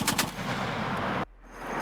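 Machine gun fire during military training of German soldiers on U.S. machine guns, a dense sustained burst of loud gunfire that cuts off abruptly, followed by quieter rumbling background.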